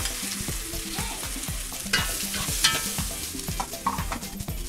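Finely chopped onion fries in rendered pork fat for Venezuelan hallacas, a steady loud sizzle with repeated scraping stirs and clinks of a utensil against the pan.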